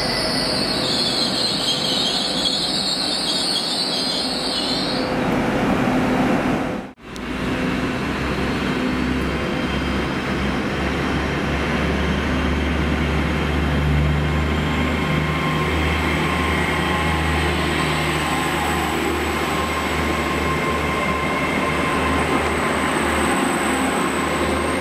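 Class 33 and Class 47 diesel locomotives at Bridgend station, a steady low engine rumble with rail noise and wheel squeal running throughout, with a brief dip partway through.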